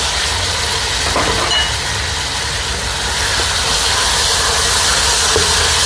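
Chopped tomatoes frying in a pan for prawn biryani, a steady loud hissing sizzle with faint crackles, continuous throughout and heard alone without speech.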